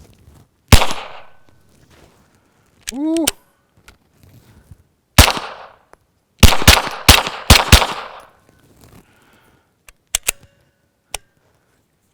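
Suppressed shots from a Gemtech Lunar 9 firing Remington UMC subsonic ammo, irregular and halting: a single shot, a pause, then a short burst of several close cracks, later scattered clicks, with a brief voiced exclamation in between.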